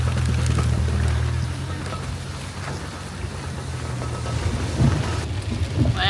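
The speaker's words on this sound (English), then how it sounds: "the rain has picked up midday just like they promised" Steady heavy rain hisses across the whole stretch, with a low rumbling underneath and a few louder thumps near the end.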